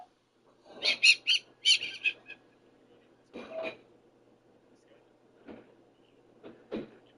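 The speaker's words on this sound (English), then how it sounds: "Those are beautiful bird noises." Birdsong outdoors: a quick burst of bright chirps, then a few scattered single calls spaced seconds apart, fairly faint against a quiet background.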